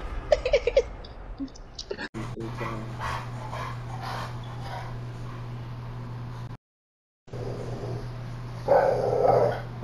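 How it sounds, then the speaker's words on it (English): A dog whimpers and pants near the microphone. A low steady hum runs underneath, the sound cuts out briefly, and a sharper burst follows near the end, with people talking around it. "stupid ass fucking dog, dumb ass bitch ass dog"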